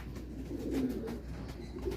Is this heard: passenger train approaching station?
no